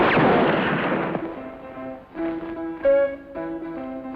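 A single loud gunshot cracks close by and echoes away, followed by a faint tonal musical score in a Western-style drama.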